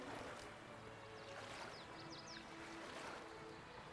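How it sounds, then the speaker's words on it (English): A waterfall in a Jurassic Park video game gives a steady, quiet, continuous rushing wash with no talk over it. "Somewhere here's a nice waterfall."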